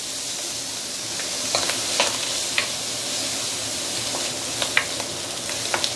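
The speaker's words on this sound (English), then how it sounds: "This is after about a minute plus sauteing." Jicama and dried cuttlefish sauté in a pan with a steady close sizzle, punctuated by occasional scrapes and taps of stirring.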